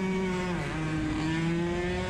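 Racing kart engine on a dry track droning steadily as it exits a corner, its pitch dipping briefly as it bogs down before climbing again, close and continuous with no talk.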